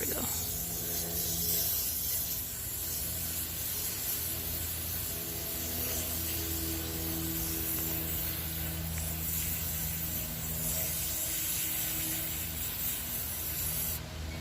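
A garden hose nozzle sprays water steadily while planting Irish moss in a home garden, a continuous broad hiss with a low engine-like hum underneath throughout.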